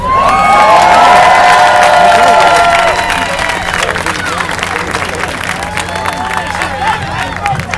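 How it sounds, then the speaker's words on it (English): A crowd at a Brooklyn Q&A with Kevin Smith bursts into loud cheers, whoops and applause, the shouting peaking early and then easing into sustained clapping. "let's give another round of applause for Kevin Smith, you guys"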